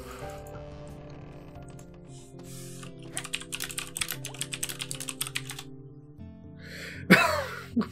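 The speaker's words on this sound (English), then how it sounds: "The clickety clack on the keyboard." Rapid clickety-clack typing on a computer keyboard runs in bursts over soft game music, with keystrokes fairly close and distinct.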